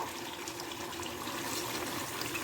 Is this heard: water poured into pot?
yes